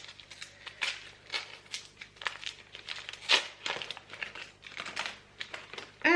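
Crinkly plastic packaging of a small piece of cheese from an advent calendar being torn open, with a quick run of crackling, rustling bursts up close and no voices.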